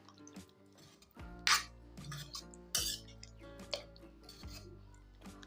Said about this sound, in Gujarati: પાણી નાખીને આપણે શાકને ચમચાથી હલાવી લઈશું